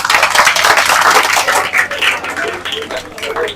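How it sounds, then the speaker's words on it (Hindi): Students applaud at a coaching and computer centre celebration, a dense, continuous crackle of many hands clapping together, fairly loud and close, with a faint voice or two underneath. "तो एक बार दोबारा से तालियां बजा दो।"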